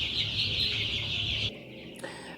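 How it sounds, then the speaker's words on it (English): Two-week-old chickens on a poultry farm keep up a dense, high-pitched chorus of peeping and clucking that cuts off abruptly partway through, leaving a quieter room tone with a faint chirp. "We also have 2 weeks old chickens that we sell at a pocket friendly price,"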